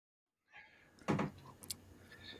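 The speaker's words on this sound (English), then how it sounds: "He's gone. He shut the door." A door swinging closed with one solid thud after a short slide, followed by faint rattles and quiet room noise.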